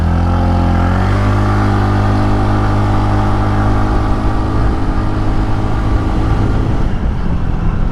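A car pulls hard from standstill through a 0 to 60 run, the engine note climbing steadily and loudly from inside the cabin, with rising tones that blur into road and engine roar.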